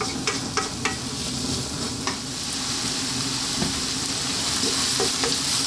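Onion and garlic fry in olive oil over high heat, giving a continuous crackling sizzle with a few sharp clicks early on, close and steady, with no voices.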